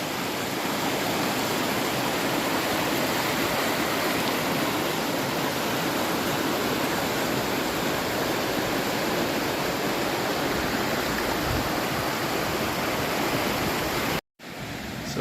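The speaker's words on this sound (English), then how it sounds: "So we already got our first waterfall here." A waterfall and swollen stream at Ricketts Glen State Park after heavy rain roar in a loud, steady, close rush of broadband water noise that holds constant, cut by a brief dropout near the end.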